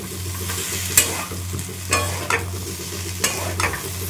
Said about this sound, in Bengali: সেটা এবার ভালো করে কষাতে থাকি